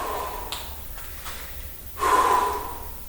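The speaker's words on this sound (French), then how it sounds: "J'inspire, j'expire, inspire, expire" Heavy breathing during a leg-strengthening workout, close and audible with a sharp intake near the start and a longer, louder exhale toward the end.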